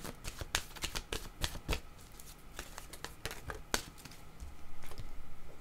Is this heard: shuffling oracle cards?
yes